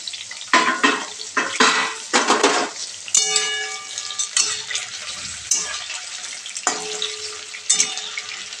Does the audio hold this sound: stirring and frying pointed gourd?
yes